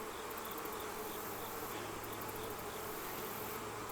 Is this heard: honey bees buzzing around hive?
yes